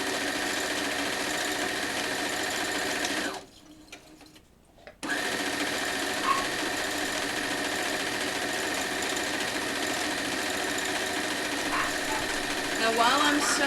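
Sewing machine running steadily while stitching T-shirt quilt fabric, a continuous close motor whir that cuts out briefly for about a second and a half, then resumes without pause.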